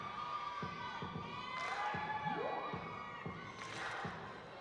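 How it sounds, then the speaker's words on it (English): Gymnastics floor routine at a college meet between Illinois and Nebraska, with teammates and the crowd clapping in a steady rhythm along to the music, cheers rising in brief bursts, and a commentator talking over it. "Teammates and crowd clapping along"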